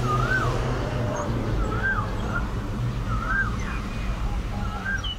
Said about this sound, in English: I hear the oh wow bird.